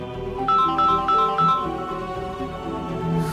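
A phone plays its melodic ringtone loudly and steadily, repeating its tune several times without being answered, in an indoor domestic scene from a Malayalam TV serial.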